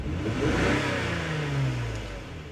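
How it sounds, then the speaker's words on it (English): A Toyota or Lexus engine with a misfire revs up and back down steadily, a close, continuous mid-pitched drone with a slightly rough, hesitant note and no talking. "So as I rev the engine up, I do feel that hesitation,"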